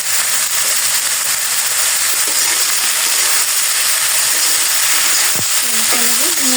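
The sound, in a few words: stirring frying food with salt and turmeric in a pan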